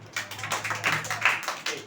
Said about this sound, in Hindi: अपने लिए ताली बजाइए।